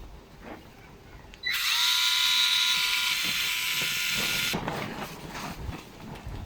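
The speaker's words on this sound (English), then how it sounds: "So remove the 4 screws on the metering side." A small power driver whirs steadily for about three seconds, loud and close, as it backs out screws from the metering cover of a Ryobi RLT26CDSN trimmer carburetor. Quieter handling noise comes before and after.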